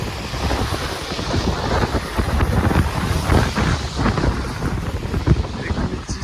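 Cold wind buffets the microphone outdoors on a Bucharest street on a December morning, a loud, rumbling gusty roar throughout.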